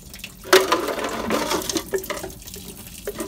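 Pink antifreeze pours out of a Mercruiser 5.7L boat engine during winterizing, a close gurgling, splashing stream of liquid with uneven surges and faint clinks.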